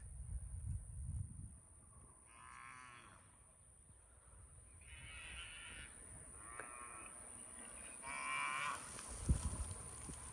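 Several miniature zebu cows moo at a distance, separate calls spaced apart over a quiet outdoor hiss, with a brief bump near the end.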